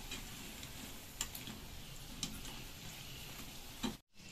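Dahi bhalle lentil dumplings fry in oil over a low flame, giving a steady, close sizzle with occasional light ticks and pops throughout.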